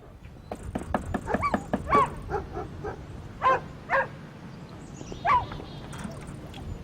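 A dog barks repeatedly nearby, starting with a quick run of short barks and then giving spaced single barks over a low background rumble.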